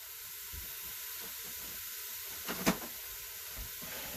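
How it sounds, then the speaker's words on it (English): Ground beef sizzles steadily in a hot Instant Pot, a constant soft hiss with a couple of brief louder crackles and pops. "We are going to put our hamburger out of the bag right into the Instant Pot. Yeah, hear the sizzle"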